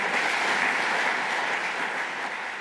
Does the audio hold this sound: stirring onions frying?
no